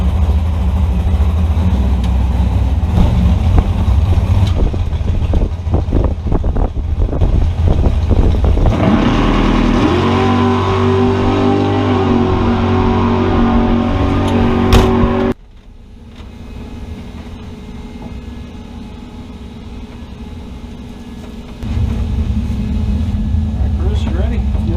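Drag racing car on its final run at Frank Hawley Drag Racing School, loud engine roar building and peaking for several seconds before cutting off abruptly, then quieter vehicle rumble, with voices.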